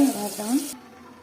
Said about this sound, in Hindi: देखो मैं पानी डाल देली